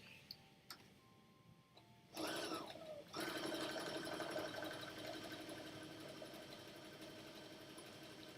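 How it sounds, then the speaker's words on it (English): Domestic sewing machine stitching an automatic buttonhole, starting after a few faint clicks and then running in a steady, fairly quiet mechanical hum with rapid needle ticking, no voices. "these sewing machines who make their automatic buttonholes. Okay, so I'm going to do one quickly"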